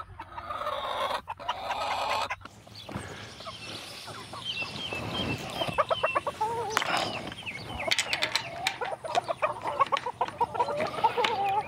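Several homestead chickens cluck and squawk nearby, with irregular bursts of calls and a brief crow, close and fairly loud with no talking.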